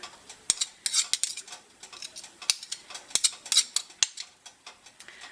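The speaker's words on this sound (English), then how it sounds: "Just trying to get the Crisco off the spoons is sometimes a bit of a chore" Metal measuring spoons being scraped and tapped to clear off Crisco shortening while cooking Appalachian-style; a close, irregular series of sharp clinks and light scrapes with short pauses between, and no talking.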